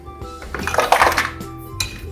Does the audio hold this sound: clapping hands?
no